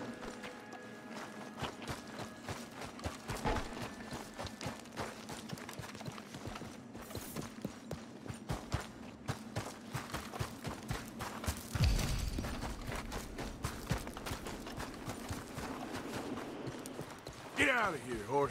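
Steady clip-clop of horse hooves trots through the clip amid outdoor noise in the video game Red Dead Redemption 2, with a sharp clatter near the end.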